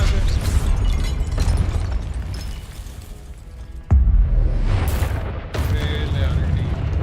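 Confringo spell blasts in Hogwarts Legacy: a heavy booming burst cuts in sharply around the middle, followed by crackling impact debris and another hit, all over constant dense game noise and combat effects.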